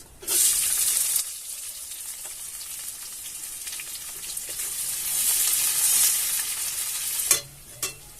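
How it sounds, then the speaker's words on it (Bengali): Sliced onions fry in hot oil with torn bay leaves, cardamom, cinnamon and cumin, giving a bright continuous sizzle that swells and fades as they are stirred, with a couple of clinks of the spatula near the end. "আর পেঁয়াজটা ভাজা হয়ে গেছে"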